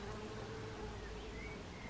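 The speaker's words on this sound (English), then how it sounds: "You see the buzzy bee on there?" Bee buzzing around a sweet-smelling flowering garden bush, a faint steady hum continuing throughout under light outdoor background noise.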